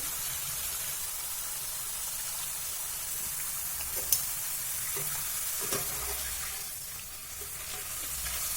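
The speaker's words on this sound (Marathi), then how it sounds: "गॅस मंद आचेवर ठेवायचं आहे आणि याला गोल्डन ब्राऊन असं तळून घ्यायचंय" Thin slices of raw banana frying in oil on a low flame make a steady, even sizzle with soft hissing. A few faint clicks and bubbling pops rise briefly over a continuous close bed of frying.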